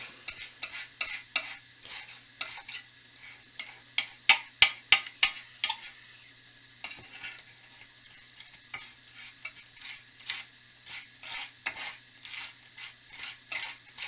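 Paint being mixed on a palette for a blizzard trees painting: a steady run of quick scraping, tapping strokes, each one short and crisp, with a few louder clicks partway through and a faint low hum underneath.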